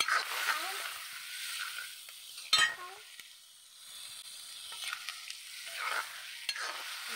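Snails fry in a pan with turmeric, giving a continuous close sizzle broken by scraping stirs and one sharp clatter of the utensil against the pan.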